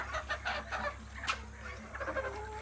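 Hens on an open-run poultry farm cluck in short repeated bursts, with one sharper squawk midway, over a steady low background hum.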